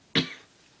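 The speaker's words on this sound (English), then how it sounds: "I'm just coughing a lot today." One short, sharp cough up close, followed by quiet.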